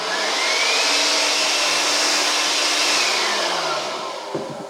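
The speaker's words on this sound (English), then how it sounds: "The other thing that I bought and used quite a bit is this little battery blower." A small battery-powered blower in a workshop blows dust off, making a loud, steady, close whoosh with a faint whine that tapers off as it winds down at the end.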